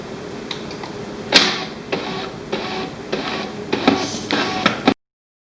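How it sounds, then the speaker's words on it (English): An HP LaserJet M234dwe printer powers on with a run of mechanical clicks, taps and short whirring bursts, one sharper knock near the start, then several spaced clatters before it stops abruptly. "Turn on the power by pressing on the power button on the printer."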